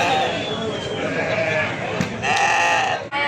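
Sheep and lambs bleat loudly and repeatedly at a livestock market in Beylagan, with several overlapping calls close by. Traders talk over the bleating.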